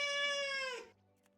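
A person's voice imitates a cat with one drawn-out meow that slowly falls in pitch and fades, close to the microphone and heard on its own.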